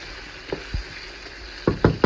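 Eggplant sautés in a pan with a steady soft sizzle, punctuated by a few sharp knocks of a utensil against the pan near the end.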